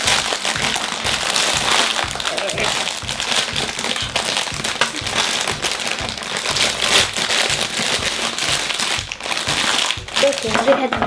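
Crinkly plastic rustling and crackling close up as a LEGO Ninjago set bag is opened, sustained and busy throughout, with a voice speaking now and then.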